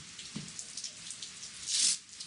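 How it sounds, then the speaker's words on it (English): Rain falling in a light, continuous patter with scattered drops and a brief louder splash, fairly faint and without talking. "On Tuesday, it was supposed to rain, January 9, and rain it did."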